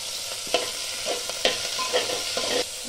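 Broad bean and potato pieces fry in a pan with half-cooked onions for a curry, stirred with several distinct scraping strokes over a steady close sizzle.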